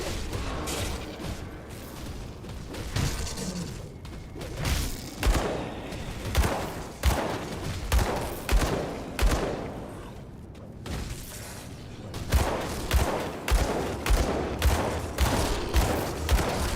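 Rapid gunfire in the video game Grim Dawn, bursts of sharp shots repeating in quick uneven volleys over a dense, noisy mix of game effects, loud and continuous.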